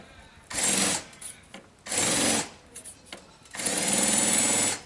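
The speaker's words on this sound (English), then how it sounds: "here we go, countersink" A drill countersinks screw holes in hardwood for a pedal board box, with three short whirring bursts separated by brief pauses, close and moderately loud.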